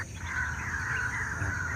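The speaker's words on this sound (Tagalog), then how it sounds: "mga ibon, oh, sa likod natin" Birds call faintly in the distance, a steady thin chorus carrying over a low background hum.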